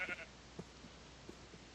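A sheep in the video game Minecraft gives a faint, short bleat near the start, then only quiet game ambience remains.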